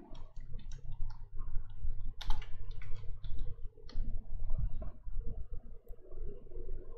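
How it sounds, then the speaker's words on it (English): A name is typed on a computer keyboard, a rapid irregular patter of light key clicks, close and fairly clear, with short pauses between bursts. "You can type your name."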